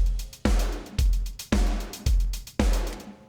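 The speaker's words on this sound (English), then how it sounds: "The intro is fairly straightforward, like a 4 to the floor type of beat." A lo-fi four-on-the-floor drum beat with a little saturation, six heavy kick-led hits spaced evenly about half a second apart, each followed by a hissy wash, close and alone.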